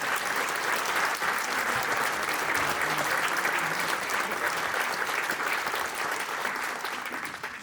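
Concert audience in Divača applauds loudly and steadily for several seconds, a dense wash of clapping from a full hall that tapers slightly at the end.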